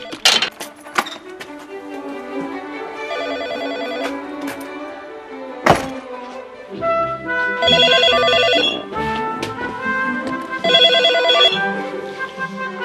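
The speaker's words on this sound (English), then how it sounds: "Professor Nick Humphrey gets a phone call from a colleague" A telephone rings for an incoming call in repeated electronic bursts, spaced several seconds apart over a background of music and other sounds, with no voices.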